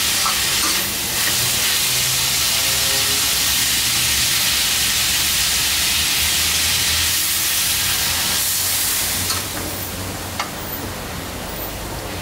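Water poured into a hot pan of sizzling pork stir-fried with ginger: a loud, dense, continuous sizzle and hiss of steam fills the whole stretch close up, easing slightly toward the end, with no talking.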